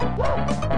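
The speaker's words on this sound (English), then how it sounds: "You're a dog made of flames." A flaming dog from a Dennis the Menace video game gives a couple of quick, close, yappy barks over ongoing game noise.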